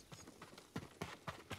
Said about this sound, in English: Hear them horses run.